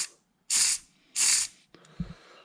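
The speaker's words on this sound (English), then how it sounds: "anywhere you see the little holes like so, you can go ahead and give it a little bit of a spray." Aerosol carburetor cleaner sprayed into the small holes of a Yamaha VMax carburetor: two short, sharp hissing bursts close to the mic, followed by faint handling clicks and a brief low knock.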